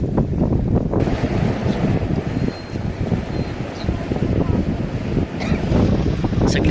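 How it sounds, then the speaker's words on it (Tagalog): Strong wind in rainy weather roars and buffets the microphone continuously, a loud low rumble that drowns out other sounds. "Malakas ang hangin, no?"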